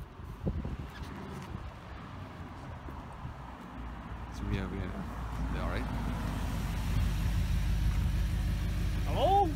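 An Audi R8 drives up around a corner, its engine a low rumble that swells steadily as the car nears, with faint voices in the background.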